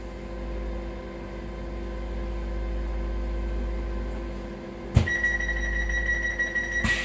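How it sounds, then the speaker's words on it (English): A faint steady hum gives way to a sudden sharp electronic tone that starts abruptly and keeps sounding, the door warning alarm on a Transport for Wales Class 230 train, with no voices. "The doors sound like a fire alarm."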